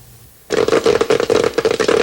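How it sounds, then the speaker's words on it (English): Popcorn pops in rapid, dense bursts that start abruptly and keep going as a loud, close, crackling flurry of overlapping pops with no voices. "The sound is popcorn popping."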